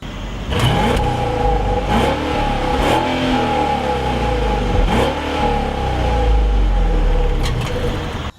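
A Mercedes S550 engine revs hard and accelerates, a loud steady roar with the pitch rising and settling through gear changes, heard from inside.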